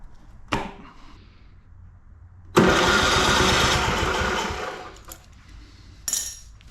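A Yamaha YS624T snowblower engine turns over and catches, giving a loud burst that runs for about two seconds and fades, with a couple of sharp clicks before and a brief rise after.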